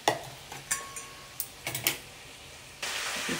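A spoon stirs curd into an onion mixture in a kadai for Telugu perugu charu, scraping and clinking against the metal in scattered near strokes, with a brief hiss toward the end.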